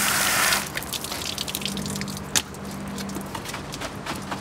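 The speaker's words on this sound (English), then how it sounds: "Rinse them all, real simple." Running water rinses dirty solar window screens cleaned with dish soap, a steady close gushing spray that starts louder, then continues evenly with one brief knock partway through.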